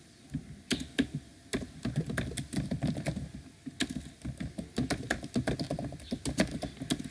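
Irregular clicking of computer keys being typed close up, bursts of keystrokes with brief pauses, no voices.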